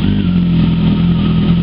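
A Kawasaki ZZR 1400 motorcycle engine, started on a small lithium-ion battery, runs at a steady, loud idle with a deep, even rumble throughout and no voices.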